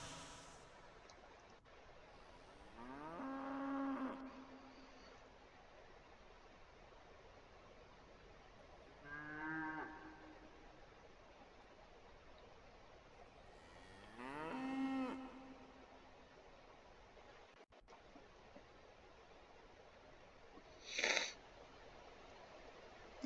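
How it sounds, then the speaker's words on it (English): Cattle on a farm in the Railroads Online video game moo several times, with four separate calls spread out at a moderate distance and quiet ambience between them. "The cattle."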